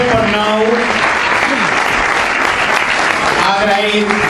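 An audience at a ceremony with performances and speeches breaks into loud, sustained applause that fills the room, with a voice audible over it at the start and again near the end.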